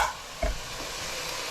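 Peppers, onions and carrots frying in a pan, a steady soft sizzle with a brief louder burst as the vegetables are stirred, close and continuous with no talking.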